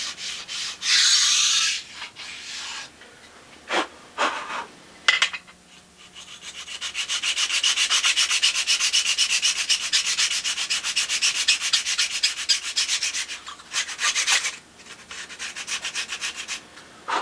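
Model aircraft wing ribs are trued up by sanding, with short rubbing strokes at first, then a long run of steady, close back-and-forth rasping, broken by pauses, with no talking.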